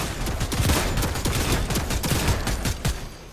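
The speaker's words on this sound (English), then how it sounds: "I'm getting shot at." Gunfire in the Fortnite video game, a dense rapid volley of shots crackling continuously at close range throughout, with no talking.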